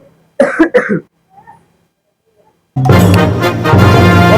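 A person coughs twice in quick harsh bursts, then a faint throat noise, before a loud burst of music takes over.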